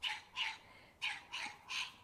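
French bulldogs outdoors in a garden bark five times in a quick, uneven series, sharp and fairly faint, with no talking.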